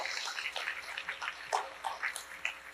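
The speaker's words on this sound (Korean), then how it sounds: "이 시간 하나님께 영광의 박수를 올려드리겠습니다" Congregation applauding in praise to God during a Korean Sunday church worship service, a dense, steady patter of many hands clapping at moderate distance for a few seconds.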